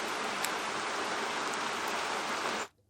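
Apple's rain white noise sample, a dense, even patter-like hiss with faint brief ticks, playing at a constant level for nearly three seconds before stopping abruptly.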